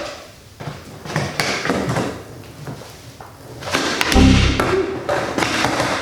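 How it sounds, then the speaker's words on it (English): A skateboard kickflip attempt brings a run of rolling rumble and scattered knocks, then a heavy thud as the board and rider hit the ground, followed by lighter clatter. "Kickflip."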